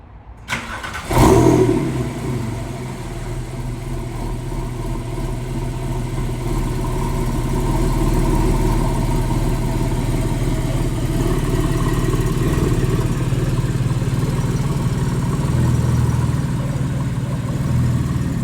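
A Porsche car engine fires up and runs steadily outdoors, a sharp start burst followed by a loud, continuous mid-pitched idle with no talking.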